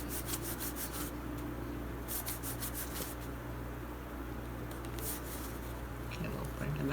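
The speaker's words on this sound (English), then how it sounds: "And press it down." Paper flap being pressed and rubbed down by hand in a junk journal, a soft, close rasping rub in repeated strokes, faint and steady.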